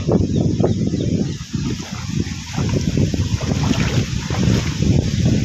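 Strong wind on a farm in the Philippines buffets the microphone in loud, rumbling gusts that rise and fall continuously, with no voices.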